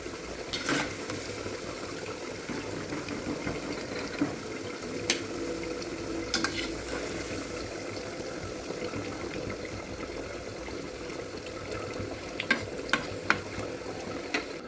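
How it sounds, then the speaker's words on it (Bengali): Onions frying in a pan give off a steady, moderate sizzling hiss that runs without a break, with a few faint clicks and scrapes from stirring near the end. "পেঁয়াজগুলো লাল লাল করে ভাজা হয়ে গেছে"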